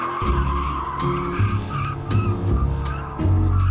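A Corvette Z06's rear tyres spin and skid loudly and close up, with continuous squealing and scrubbing over a revving engine that rises and falls as the car slides.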